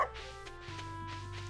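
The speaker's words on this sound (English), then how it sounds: "let's say hello to the puppy." A puppy in the Stardew Valley video game gives a few short, soft yips and a little bark over quiet game music, faint and brief.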